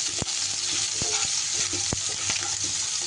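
Food frying in a pan gives a constant close sizzle, broken by several sharp clicks and scrapes as it is stirred.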